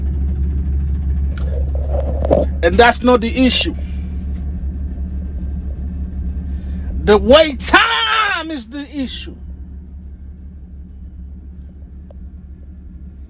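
Idling trucks waiting in a long fuel line give off a low, steady engine rumble that runs throughout, close by. Someone talks over it in two short bursts.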